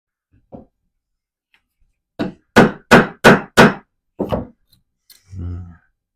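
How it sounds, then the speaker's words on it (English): Hammering to preset a hole in a metal spoon lure, heard as a few sharp close taps followed by a quick run of four evenly spaced strikes, then two more knocks and a duller thud. "I guess I'll use this as my hammer. I just want to preset a little bit of a hole there."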